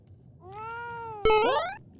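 A house cat meows twice, a drawn-out bending meow followed by a sharper, louder cry, close up in a quiet room.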